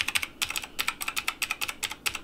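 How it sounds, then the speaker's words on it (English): Rapid typing on a keyboard with Cherry MX Silent switches, a quick irregular run of soft, muted keystrokes close to the listener, alone with no talk. "Strafe MX Silent Cherry Switches. So it's nice and silent."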